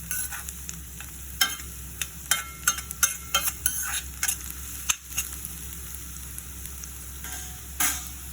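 Potatoes frying in oil while being stirred, irregular spatula taps and scrapes over a low steady hiss, fairly quiet and close, no speech.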